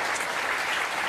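A studio audience on a French television talk show applauds Dita Von Teese, a dense, continuous burst of clapping at steady volume with no voices over it.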